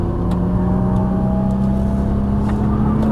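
A Nissan GT-R engine runs at full throttle on a race track, a loud, steady, close droning roar with no letup for the whole stretch.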